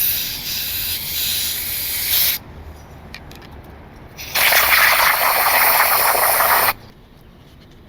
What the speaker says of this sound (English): See what happens when I blow air in here? It's actually blowing out a lot of the old oil.